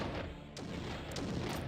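Homing missiles launched by enemies in the Blood Omen: Legacy of Kain video game, a dense booming burst of fire with a sharp launch at the midpoint and further shots near the end, continuous and loud.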